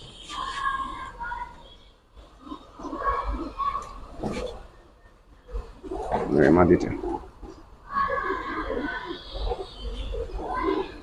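Giribaz and colouring pigeons coo in low, throaty bursts, close by in a loft, with someone talking over much of it.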